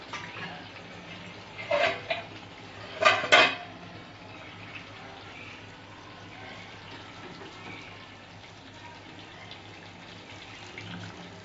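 Hot water poured from a separate pan into a pot of chicken curry with half-cooked potatoes and meat, making two short splashing bursts with light metal clatter, then a quiet low simmer.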